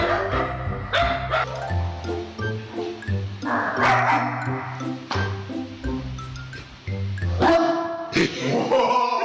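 A man sitting beside dogs in a studio imitates barking, and the dogs answer with yips, barks and whimpers in a loud, close, choppy exchange.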